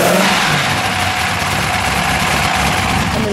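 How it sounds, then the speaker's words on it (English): A 1954 Pegaso Z-102 Berlinetta sports car engine runs steadily with a throaty exhaust rumble, loud and close, holding a constant idle-like drone throughout. "Let me listen to that exhaust."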